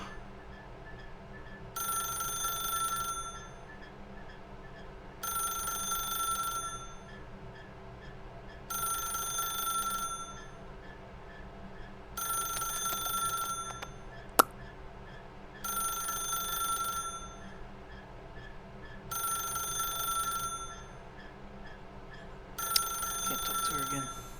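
A telephone rings inside the video game The Stanley Parable. About seven evenly spaced electronic ring bursts repeat every few seconds at a steady, moderate level, with quieter ambience between them.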